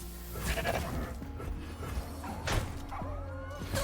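Goat bleating in a video game card battle, a few short bleats over game effect sounds and thumps, moderately loud and alone.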